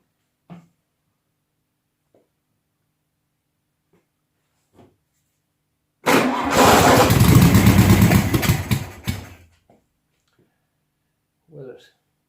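A 1972 Volkswagen Beetle 1200 engine, not drawing fuel from the carburetor, cranks loudly and rhythmically for about three seconds without catching, surrounded by silence and a few faint, brief voices.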